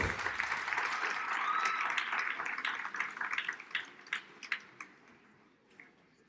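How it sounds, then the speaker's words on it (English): A round of applause at a ward councillor's welcome during an engineering school event, a dense crowd clapping that starts full and steady, then thins out into a few scattered, louder individual claps before fading away. "Round of applause."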